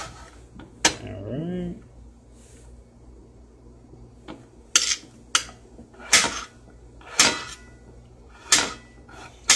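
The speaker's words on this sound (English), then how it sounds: "Now, what I'm doing is I'm slicing this thin" A knife slicing turmeric root thin on a cutting board, producing sharp, evenly spaced chopping clicks that come close and crisp, with a brief voice-like sound early on.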